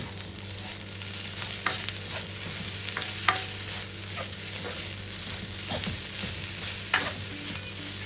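Fried rice sizzling steadily in a hot pan for breakfast, with repeated scraping and stirring strokes of a utensil across the metal, close and continuous without talk.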